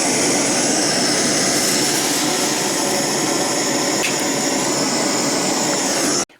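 Homemade non-dairy creamer mixed with KNO3 powder burning: a loud, continuous roaring hiss holds steady for about six seconds, then cuts off abruptly, with no voices.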